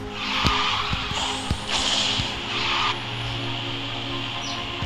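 A car drifts in the Garena Speed Drifters racing game with repeated tire skids and squeals over a steady engine drone, several sharp bursts in quick succession against game music.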